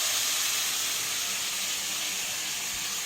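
Onion and tomato frying in a pan give a steady, loud sizzling hiss that stays even and unbroken throughout, with no talking.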